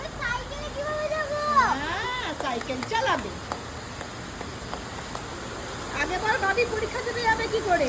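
Heavy rain pours as a steady broadband hiss throughout, while people talk over it, with a few other sharp sounds mixed in.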